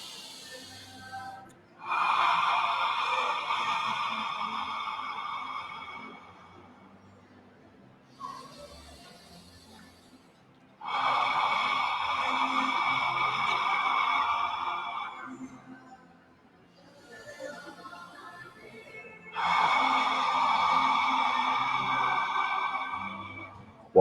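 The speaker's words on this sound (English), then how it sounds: "let's just do 4 hard breaths together to bring us back into the now fully." Three hard, deep breaths drawn in through the nose, each a long, forceful rushing inhale lasting several seconds, separated by quieter gaps, close and alone.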